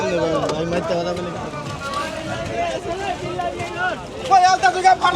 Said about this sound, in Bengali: দর্শক দেখেন এই ছোট একটা ট্রলার চলে আসছে